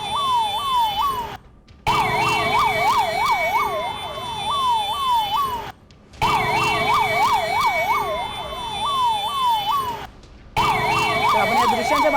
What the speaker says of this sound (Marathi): साधारण 18 ॲम्ब्युलन्स या घटनास्थळी दाखल झालेले आहेत